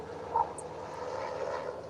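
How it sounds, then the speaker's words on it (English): Aircraft engine drone, likely a helicopter passing overhead, forms a steady low hum that stays fairly even throughout. "Sorry about the helicopter."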